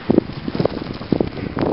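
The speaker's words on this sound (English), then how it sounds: "it's really windy still." Gusty wind after a snow storm in New Hampshire, buffeting the microphone in uneven bursts of rushing noise, fairly loud and close, with no voices.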